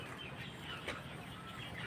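A flock of 24-day-old poultry crowded together in a shed during a power cut makes soft, continuous clucking and low murmuring, faint and steady throughout.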